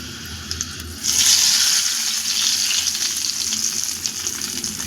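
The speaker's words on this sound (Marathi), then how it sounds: "आता फक्त आपण लसूण आणि मिरचीची फोडणी ह्याच्यावर ॲड करणार आहोत" A sudden loud sizzle erupts as garlic and chilli hit hot oil, then settles into a steady, close frying hiss that continues to the end.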